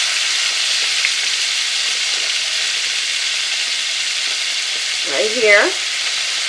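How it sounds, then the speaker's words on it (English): Pork pieces fry in a pan with a steady, close sizzle throughout, while a voice briefly speaks near the end. "Now we're getting to the nitty-gritty of making fried pork. Okay, flip all your pieces."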